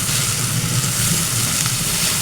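Tomato sauce hits a hot frying pan while cooking Egyptian masaka'a, giving a steady, close sizzle and fry hiss that holds evenly throughout with no voices.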